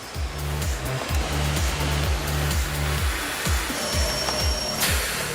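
A Numatic Henry Compact HVX160 vacuum cleaner motor runs close and loud as a steady rushing whine of airflow, with a repeating low rhythmic thumping beneath it throughout.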